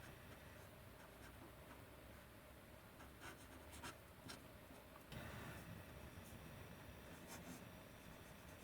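Fountain pen nib scratching across paper in quick, faint strokes, close up in a quiet room, with a short pause and a fresh burst of writing partway through.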